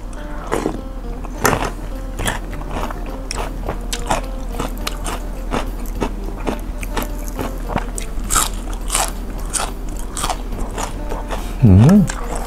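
Close, loud chewing and crunching of spicy raw shrimp salad with stink beans and fermented crab sauce, wet bites and crisp crunches repeating steadily, with a brief vocal hum near the end.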